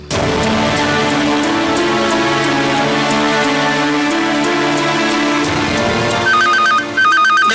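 A telephone ringtone rings loudly and steadily over a background music score in a Tamil TV serial scene, continuing for several seconds without speech.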